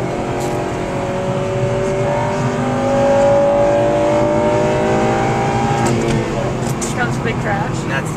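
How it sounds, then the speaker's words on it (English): A Honda engine with VTEC, driven with traction control off, revs up in a rising, steady whine heard from inside the car, with a person speaking over it. "If you want to hear the VTEC,"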